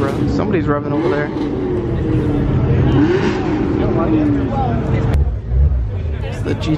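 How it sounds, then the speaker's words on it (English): A car engine revs at a car meet, rising and falling in pitch amid a busy crowd with voices chattering nearby, with a sharp burst near the end. "Somebody's revving over there."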